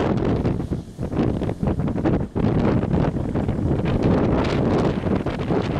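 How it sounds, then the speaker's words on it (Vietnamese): Strong wind buffets the microphone in a steady, loud broadband roar beside a fishing boat out on open water, with gusts swelling and dipping throughout and no talk. "nhưng mà gió ồn ồn gió cũng khiếp gió quá"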